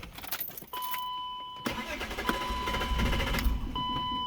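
BMW E36 with an M52 engine, ignition turned while the engine fails to start: keys jangle, then warning chimes beep steadily and a brief click or whir sounds, with no engine catching.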